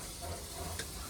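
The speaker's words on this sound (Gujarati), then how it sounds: "એક બાજુ વંઘાર થાય છે" Spices temper in hot oil in a small kitchen set up in a truck cab, giving a brief, steady sizzle and hiss close by.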